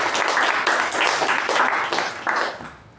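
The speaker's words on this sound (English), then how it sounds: "A huge round of applause to all the TAPG role takers." Applause from a Toastmasters club meeting audience, a fairly loud, close burst of clapping with a pulsing rhythm that thins out and fades toward the end.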